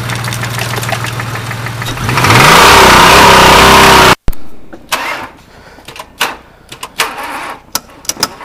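A Ford Taurus 24-valve engine running and then revving hard, rising to a loud, strained roar before cutting off abruptly, followed by scattered clanks and knocks nearby.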